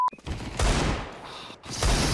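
Gunfire rings out in a Counter-Strike match, dense, loud bursts of shots filling most of the moment, broken by a brief lull before another volley.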